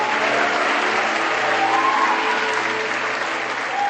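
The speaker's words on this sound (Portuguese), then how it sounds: "Dê o seu melhor aplauso a ele" Loud, sustained applause from a large church congregation fills the space continuously, with faint cheering mixed in.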